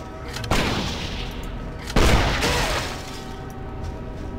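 Two big booming explosions in the Torchlight II game, each a loud sudden blast with a long rumbling decay, spaced about a second and a half apart.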